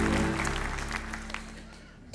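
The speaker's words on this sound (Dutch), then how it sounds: "Dames en heren, mag ik een applaus voor onze eerste kandidaat?" A cabaret audience applauds as the first contestant is called up, a burst of clapping that starts loud and fades over about two seconds, mixed with room hum and tonal stage sound.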